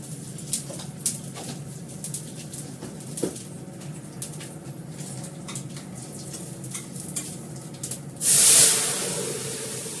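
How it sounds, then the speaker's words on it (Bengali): Five-spice tempering crackles in hot oil with scattered stirring clinks, then a sudden loud, close sizzling burst erupts near the end and slowly settles into a steady hiss. "দিলাম 5 ফোড়ন।"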